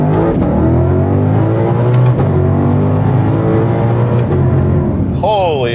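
A car's engine in loud exhaust mode drones steadily with a deep, rumbling note and shifting harmonics while driving, close and loud throughout, with a brief tonal squeal near the end.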